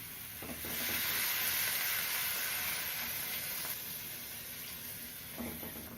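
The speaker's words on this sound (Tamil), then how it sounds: "இப்போ தண்ணி சேர்த்துக்கலாம்" Steady broadband hiss and sizzle as water is poured into a hot pan of masala-coated dry fish, swelling after a second and holding, with faint stirring clinks; no voices.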